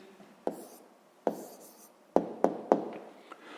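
Pen or pencil writing out an answer to a sixth-grade math exercise on paper, a few sharp separate strokes and taps close by, with no talk.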